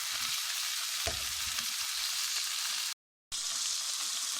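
Kidneys and peas fry steadily in a pan, a close, constant sizzle with a brief cut near the end and no talking.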